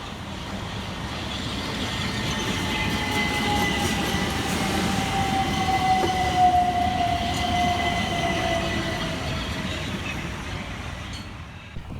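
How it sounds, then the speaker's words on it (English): A Class 377 Southern electric train pulls into Coulsdon South station with a steady rumbling roar and a long whining tone, the wheel noise holding evenly throughout. "Arriving next into the station be 377 425, working the 1049 Southern service from Reigate through to London Victoria."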